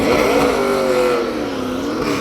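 A NASCAR Xfinity race car on a qualifying lap at Talladega Superspeedway roars past close by, its engine pitch falling as it goes by in one loud, sustained sweep.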